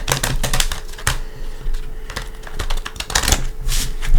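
A deck of tarot cards is shuffled close by, giving rapid bursts of crisp clicking and riffling with short pauses between them.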